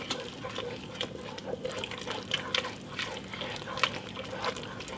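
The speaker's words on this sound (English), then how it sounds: "So now I'll give that a stir." A wine and flour roux is stirred in a pan while making sauce from Thanksgiving leftovers, heard as a wet, bubbling sizzle with repeated scraping strokes of the utensil, close and moderately loud.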